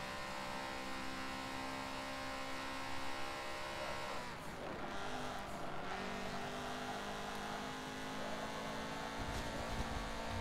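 Audi race car engine in Forza 7 during a two-hour Le Mans endurance race, a steady droning engine note with a sweeping pass-like swell midway, continuous and fairly quiet under the player's own car.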